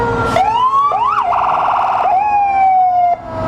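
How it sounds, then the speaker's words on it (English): A loud, close fire truck siren at a July 4 parade in Alburg, wailing and rising and falling in pitch, with a brief stuttering yelp in the middle, continuous throughout. "No sirens in the parades. Save them for an emergency."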